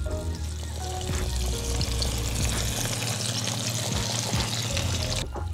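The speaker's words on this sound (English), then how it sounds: "I'm gonna go ahead and be quiet so you can hear that sizzle" Crispy sesame beef frying in hot oil, a loud, continuous close-up sizzle and crackle with a low rumble of heat beneath, unbroken until a sudden cut at the end, with no talk.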